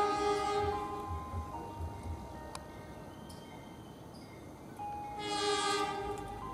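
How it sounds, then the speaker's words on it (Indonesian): A local passenger train's horn sounds in long tonal blasts, fading and then returning louder, over the low rumble of the train arriving from the east at a distance. "Satu dari timur masuk kereta api penumpang lokal."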